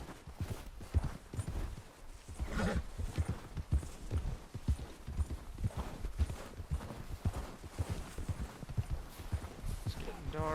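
Steady clip-clop of horse hooves in the video game Red Dead Redemption 2, a rhythmic riding gait that carries on throughout while someone talks over it.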